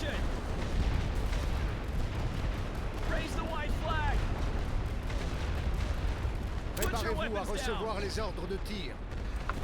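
Machine gun fire and battle din in a World War I strategy game: a dense, constant roar of gunfire and booming artillery, with shouting voices breaking through in two short stretches.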